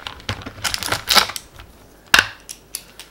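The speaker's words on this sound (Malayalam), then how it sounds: "ചെറിയൊരു ഫ്ലാറ്റ് ഹെഡ് സ്ക്രൂ ഡ്രൈവറോ എന്തെങ്കിലും സാധനം ഇടുക." Flat-head screwdriver prying open the plastic case of an Asus X541UA laptop, a scatter of sharp clicks and plastic snaps with one louder crack partway through, close up and with no talking.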